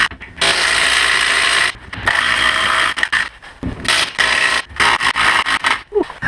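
Ryobi power torque wrench rated around 200 foot-pounds removing big nuts on a Jeep with an AX5 transmission, loud rapid ratcheting bursts stopping and starting several times, close up with no talk.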